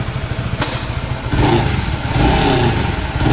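A Honda CBR 150R Repsol motorcycle with an abnormal engine noise runs close and loud; a sharp click comes early, then a rough, throbbing engine note swells and keeps rattling.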